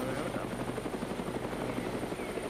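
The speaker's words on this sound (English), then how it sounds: "Wow, there's a second helicopter now." A helicopter in a video game drones steadily with a fast, even rotor thump, a continuous mid-level whir with voices faintly underneath.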